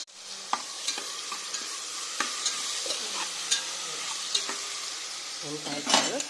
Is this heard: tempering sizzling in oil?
yes